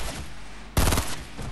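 Gunfire in the video game Fortnite: a sudden loud burst of rapid shots erupts after a quieter stretch and rattles on for about a quarter second before easing off.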